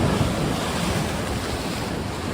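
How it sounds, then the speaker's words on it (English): Big ocean waves surge and wash over coastal rocks on the Oregon coast at a rising tide, a loud, steady roar of surf with wind buffeting the microphone and no pauses. "Sometimes when the big waves come in and wash over it,"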